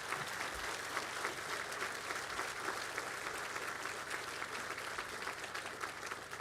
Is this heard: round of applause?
yes